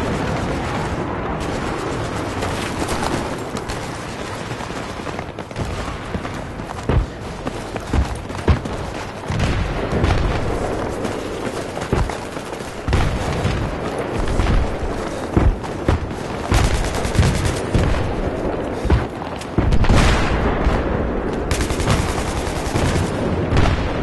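Battlefield 3 combat: near-constant gunfire and machine-gun bursts mixed with heavy booming explosions, loud and chaotic for the full span, with a few stronger blasts near the end.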